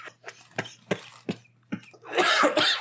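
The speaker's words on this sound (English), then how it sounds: "I wasn't laughing. I was coughing too." Several sharp coughs in an uneven series, close and loud, followed by a longer, rougher burst of coughing.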